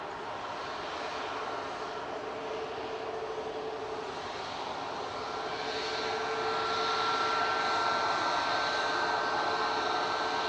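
Airbus A320-200 at Manchester Airport, a steady jet engine roar heard from a distance that slowly grows louder with a faint whining tone.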